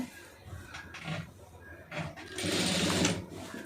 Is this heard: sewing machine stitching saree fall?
yes